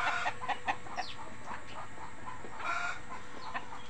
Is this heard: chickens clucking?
yes